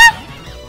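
A bird's honk from a Pokémon Halloween fangame, a single loud, bright honk at the start that quickly fades, followed by quieter game sounds.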